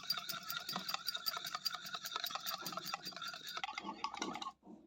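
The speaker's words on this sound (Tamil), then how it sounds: "எடுத்துகிட்டு இதை ஒரு விஸ்க் வச்சு நல்லா கலக்கி விடுங்க." Vanilla extract and milk whisked by hand in a bowl for an eggless cupcake batter, a fast steady clatter of wire against the bowl that runs continuously before stopping abruptly near the end.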